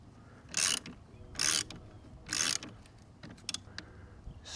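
A ratchet tightens a 13mm nut on a battery cable at a car fuse block, with three short bursts of clicking ratcheting followed by a few quicker faint clicks, close and quiet.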